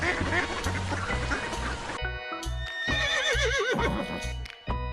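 A horse lets out a loud, wavering whinny in the middle of the stretch, set against a steady thumping music beat with busy noise at the start.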